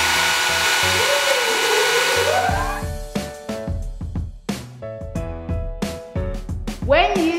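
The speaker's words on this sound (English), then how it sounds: "When you use a hairdryer" A hair dryer blows a loud, rushing stream of air for about two seconds and is then drowned out by bouncy music that carries on to the end.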